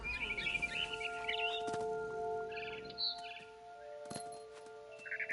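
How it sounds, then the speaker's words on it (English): A barn swallow chirps near a nest in the video game What Remains of Edith Finch, with faint scattered tweets over a soft tonal ambient background. "Then I heard chirping outside my window. It was a barn swallow going back to her nest."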